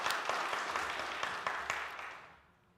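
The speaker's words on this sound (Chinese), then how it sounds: "大家鼓掌" A church congregation at a Taiwanese-language Sunday service claps together in a dense, even patter that holds steady and then trails off into quiet near the end.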